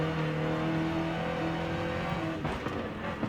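Jaguar SVR engine in Forza Horizon 5, a steady loud drone with strong low harmonics and the engine note shifting as the car comes off a corner, with rougher bursts near the end.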